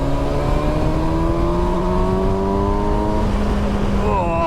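Kawasaki Versys 1000 S adventure motorcycle engine revving hard, a loud, near, steady rising engine note with climbing harmonics that shifts pitch near the end.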